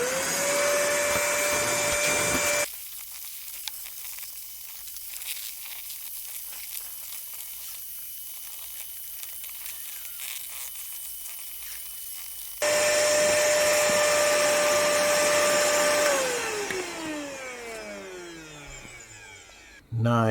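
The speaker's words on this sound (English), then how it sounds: "so I better vacuum that" A vacuum cleaner runs under the front seat of a Mk1 Skoda Fabia, a loud, close whine that drops to a muffled hum mid-way, returns, then winds down at the end.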